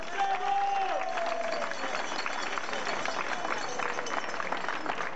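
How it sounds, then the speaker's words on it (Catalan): An audience at a Festa Major verse show in Bellpuig, Catalonia, breaks into steady applause and cheering, a dense wash of clapping that holds evenly throughout. "Un aplaudiment per ells!"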